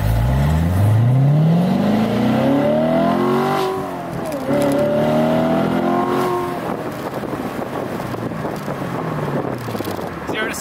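A 2016 Chevrolet Corvette Stingray with a naturally aspirated 6.2-liter V8 accelerating hard, its close engine note climbing steeply through gears with a brief dip at a shift, then settling into a lower rumble with wind noise.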